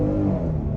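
A 2023 Hyundai Palisade Limited with a V6 accelerating at half throttle onto a highway, heard from inside the cabin as a steady, loud engine and road drone that holds without a break.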